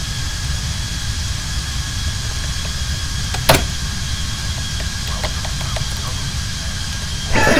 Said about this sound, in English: Let's listen to these engines fall back.